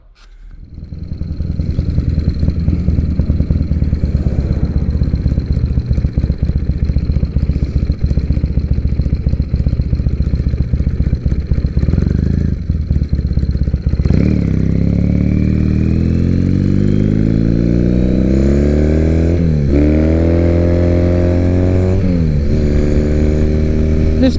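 A Triumph Bonneville motorcycle engine idles loudly up close with a steady throbbing rumble, then revs and pulls away, climbing through rising, falling gear-shift sweeps as the bike rides off.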